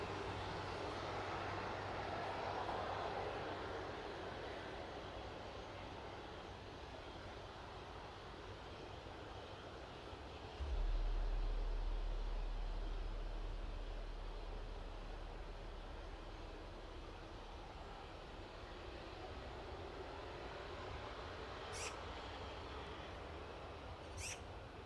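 A jet airliner taxis at East Midlands Airport with a steady, broad engine roar heard from a moderate distance, its tone swelling slightly midway as it turns along the taxiway.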